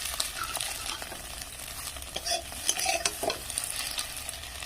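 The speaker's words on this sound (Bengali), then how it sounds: "ডিমটা এইভাবে ভাজতে হবে। একদম ডিমটা ঘেঁটে দিয়েছি।" Beaten egg fries in a pan while a spatula stirs and scrambles it, a soft continuous sizzle with quick light scrapes close by and no talk.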